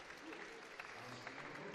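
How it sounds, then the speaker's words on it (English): A home crowd at a men's Commonwealth water polo championship in Aberdeen cheers and applauds a player, a steady dense roar of clapping and voices filling the whole moment. "gets a big cheer from the home crowd"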